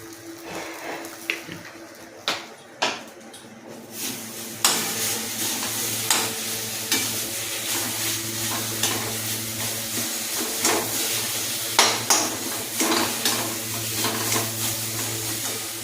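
Ground roasted cumin, coriander, chili and whole cardamom are stirred and fried into a pointed gourd dorma filling, a soft continuous sizzle broken by regular scraping spoon strokes in a pan, close and fairly quiet.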